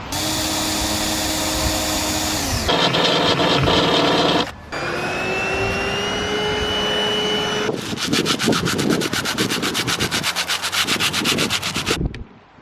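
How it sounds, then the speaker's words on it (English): A power drill whirs loudly up close in several long bursts, drilling out a broken screw. Its pitch changes between runs, and there are brief pauses between them. "one of the screws is broken off, so I'm going to have to drill it out best I can"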